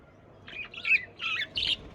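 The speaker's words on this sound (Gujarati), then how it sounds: "દેખો ગાઈસ બજરા બધા પોપટ છે" Four quick, faint squawking chirps come in close succession from a group of ten to fifteen parrots gathered on a rooftop terrace, with quiet background and no talk.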